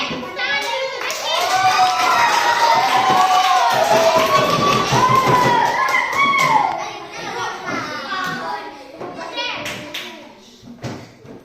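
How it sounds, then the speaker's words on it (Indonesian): A group of schoolchildren clap together for a classmate named Reski in a classroom, a sustained burst of applause lasting several seconds mixed with children's voices and an adult speaking over it. "Oke, tepuk tangan dulu untuk Reski."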